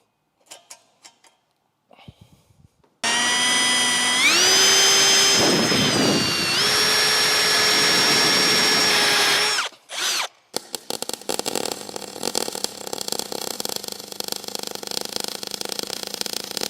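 A power drill bores holes into a Renault Megane 3 RS exhaust part to fit a lambda sensor insert, whining loudly for several seconds with pitch shifts under load before stopping, then clattering handling noises follow.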